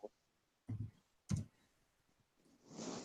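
A computer keyboard is struck hard during Roblox play, with a few sharp, separate clacks spaced apart, quiet and close, followed by a soft rustle.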